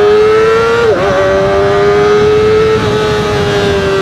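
Kawasaki ZX25R SE motorcycle exhaust revving up close on a first ride, a loud, smooth high-pitched engine whine that holds steady with a brief dip and recovery, running continuously without talk.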